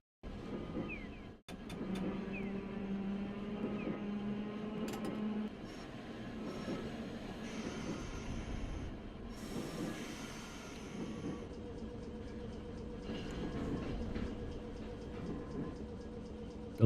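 A video-game tram running on rails through Hakodate, with a steady low rumble of the car and motor, humming tones and occasional squeals and clatter, continuous and fairly close.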